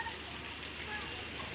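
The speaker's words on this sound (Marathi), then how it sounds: "पाणी कसं पडतंय बघा." Rain falls steadily at about eight in the evening, a soft even hiss of drops on surfaces that fills the short clip without breaks, moderately faint and without talk.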